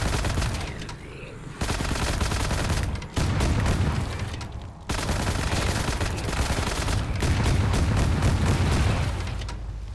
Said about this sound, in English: this is going to be your basically your new nail gun. I love the sound of that, too.